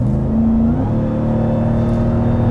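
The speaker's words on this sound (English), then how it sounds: "You can really hear that supercharger whine when you lay into it." Supercharged 2021 Ram 1500 TRX pickup accelerating hard, a steady loud engine drone with a sustained whine over it, close and continuous without pause.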